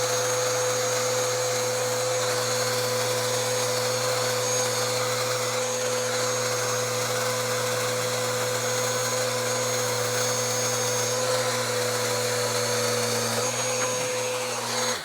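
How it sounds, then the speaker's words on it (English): A small power sander trims a cabinet scribe back to a line, giving off a steady, loud motor whine and hum held at near range for the whole stretch, with no voices over it. "using this small sander just to go ahead and trim that back"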